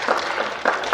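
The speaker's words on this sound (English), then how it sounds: "Golf clap for Plain City 1." Soft golf-clap applause for a school group at a school-district visioning event, scattered light hand claps from a small crowd, a brief patter that swells slightly near the end.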